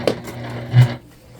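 A hand-cranked sewing machine working through a thick bag seam where the base and side panels meet, giving a short rhythmic mechanical rumble with one louder clunk partway through, close and alone.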